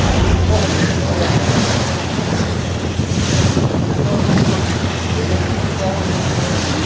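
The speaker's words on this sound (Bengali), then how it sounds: "আর এখন প্রচণ্ড ঢেউ।" Rough waves on the Meghna river churn and splash loudly around a passenger launch, the Paraabat 12, with wind buffeting the microphone in a dense, continuous roar.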